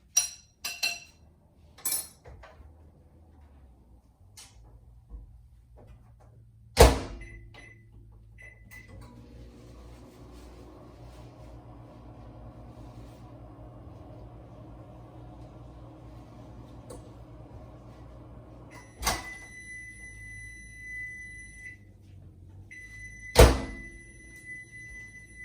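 A microwave oven hums steadily for about ten seconds while melting butter, bracketed by sharp clunks of the door and button presses and finished by a bright beep.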